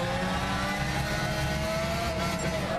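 Ferrari GTO engine in Gran Turismo 6, a continuous loud droning engine note that holds steady and rises slightly in pitch, with no talk.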